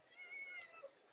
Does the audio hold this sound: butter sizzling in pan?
no